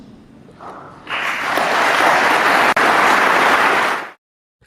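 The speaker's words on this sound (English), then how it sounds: "A lot of applause there" An audience bursts into loud applause after a political speech, building quickly from a few claps into a dense, sustained roar of clapping that holds for several seconds, then cuts off abruptly.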